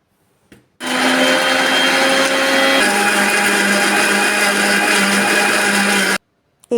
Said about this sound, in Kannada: ಅದರಲ್ಲಿ ಸ್ವಲ್ಪ ನೀರನ್ನು ಹಾಕ್ಕೊಂಡು ಇದನ್ನು ನುಣ್ಣಗೆ ರುಬ್ಕೊಂಬರೋಣ